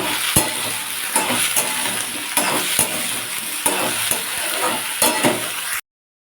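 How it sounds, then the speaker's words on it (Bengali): Eggplant and beans fry in a pan with a loud continuous sizzle, punctuated by regular scraping knocks of a utensil stirring the vegetables, then the sound cuts off abruptly. "আমি বেগুন আর শিমটাকে একসাথে দিয়ে দিলাম দিয়ে আবারও নাড়াচাড়া করে নেব"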